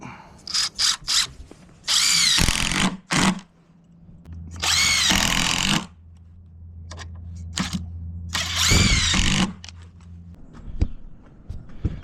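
A power drill drives screws into a wooden picnic table. It makes a few short whirring bursts, then three longer runs, each about one to one and a half seconds long, with handling and footstep noises in the gaps between.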